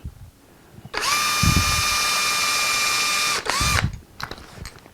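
A power drill drilling wood whines loudly at a steady pitch for about two and a half seconds, briefly spins up again, then stops amid clicks and handling noise.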